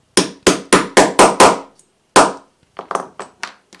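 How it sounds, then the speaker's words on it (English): A hammer whacks a metal snap onto a fabric skirt: six quick, sharp, evenly spaced blows, a pause, one more strike, then a few lighter, quicker taps, all close and loud with no talking. "give it a few good whacks with your hammer"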